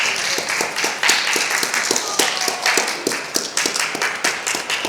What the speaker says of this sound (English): Go ahead and clap it up for y'all's principal.